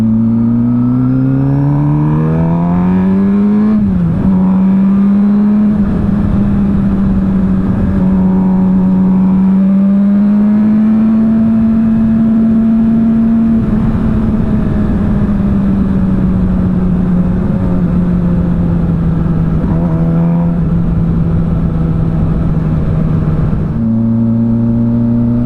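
Suzuki GSXR 600 track motorcycle, a custom build, riding on a road, its engine droning loud and steady with rising and falling revs and a few gear-change dips throughout.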